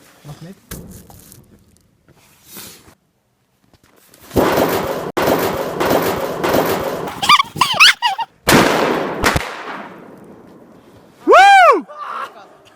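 Firecrackers go off during a New Year's celebration, with sharp bangs and rapid crackling bursts in clusters, some loud and close, alongside a whistling rocket-like rise and falling tones, with quiet gaps between.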